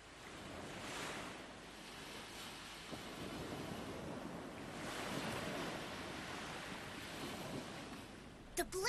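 Sea waves surge and wash steadily in an animated series, a broad, continuous roar of surf with gusty wind-like swells rising and falling throughout.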